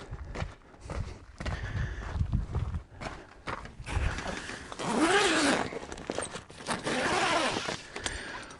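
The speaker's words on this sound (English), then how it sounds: "start to unzip the cover." The zippered cover of a 23zero Breezeway rooftop tent mounted on a vehicle being unzipped, several long rasping zip pulls alternating with short tugs and rustling handling, close and fairly loud.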